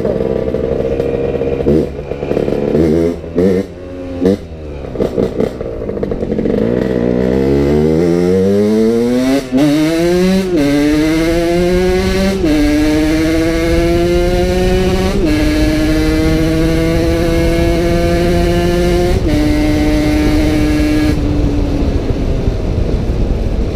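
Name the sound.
car engine revving behind, sounding like a Porsche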